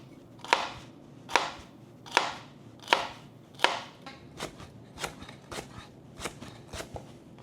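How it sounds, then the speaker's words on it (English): A knife dices celery, carrot, garlic and onion on a cutting board for a pasta sauce, giving about ten crisp, evenly spaced chops close up, with no talking. "Now I am going to just dice these up so we can saute them in the sauce."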